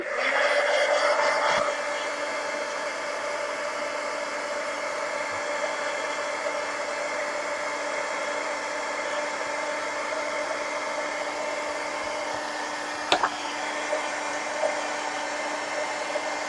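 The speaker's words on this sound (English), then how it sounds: "Let's do a heat gun." Heat gun blowing steadily over colored pencil artwork, a loud continuous whooshing roar with a tonal hum that runs unbroken for many seconds, with a slight change in tone near the start and a small clunk later on.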